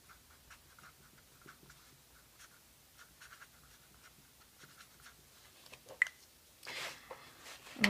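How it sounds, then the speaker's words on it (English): A stylus scratches a name into thin tooling foil, faint close scribbling strokes in short irregular bursts, growing into a louder scrape near the end, with no talking. "I'm going to write my name."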